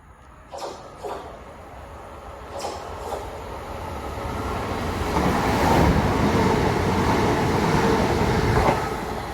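A Southeastern Class 375 electric train bound for Charing Cross passes through Grove Park station, starting with faint clicks and growing into a loud rolling rumble of wheels on track that peaks in the second half.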